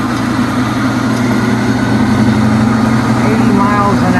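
A belt sander built from a treadmill motor runs flat out at maximum speed, a loud, steady motor whine and hum with no let-up.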